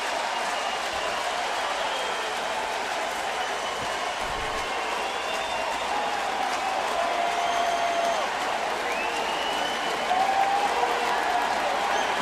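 A baseball stadium crowd roars and cheers after back-to-back home runs, a loud continuous wash of applause and shouting with a few whistles rising over it.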